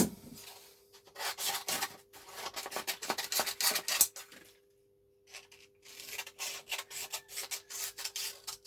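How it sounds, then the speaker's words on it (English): A knife handle is sanded by hand with 240 grit sandpaper, close rhythmic rasping strokes in bursts with short pauses between them, no voices. "I'm gonna start with a 240 grit."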